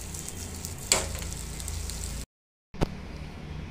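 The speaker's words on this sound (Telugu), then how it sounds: "ఇప్పుడు బెండకాయ ముక్కలు వేసేసుకుందాము" Okra pieces drop into a pan of frying egg, and the steady close sizzle briefly jumps as they land. The frying cuts out for a moment, then resumes with another small clatter.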